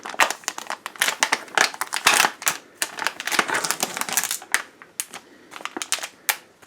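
Crinkly plastic wrapping of a 145-gram Lidl tuna sandwich is torn open up close, giving a dense run of sharp crackles and snapping clicks with short pauses between them.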